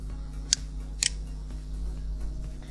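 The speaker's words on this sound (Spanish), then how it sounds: "Damos clic." Two crisp, close computer mouse clicks about half a second apart, sharp and brief over a steady low background hum, with no voices.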